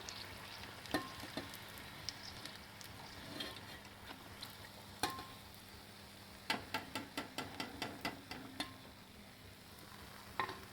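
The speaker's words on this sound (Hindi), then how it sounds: "गोल्डन ब्राउन होने तक अच्छे से फ्राई कर लेंगे हम" Bhakarwadi, a Maharashtrian spiced coriander roll, fries in hot oil toward golden brown, giving a steady soft sizzle broken by sharp clicks and clinks of a utensil, with a quick run of taps near the end.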